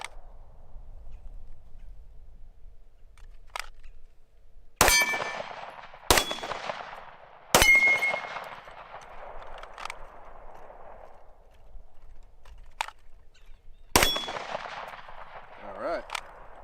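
Gunshots while a UUQ Eagle C28 red dot sight is tested: about four sharp, loud cracks, each followed by a long ringing decay and a metallic ding, spread across the clip, with quieter clicks and faint background noise between them.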